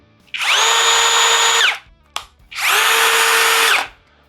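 An Assur cordless drill spins up twice in short bursts, each a loud steady whine lasting over a second with a brief click between, heard up close with no talking.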